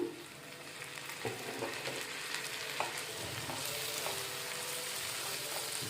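Goat brain pieces frying in a pan for a spicy dry curry, with a steady crackling sizzle throughout and occasional soft clicks of stirring, close and even in loudness with no talking.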